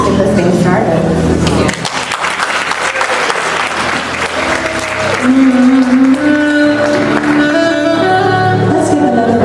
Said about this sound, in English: Let's give another round of applause to all of our award recipients.